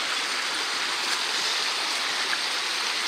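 A mountain torrent flows with a constant, dense rushing hiss of fast water, close and steady throughout.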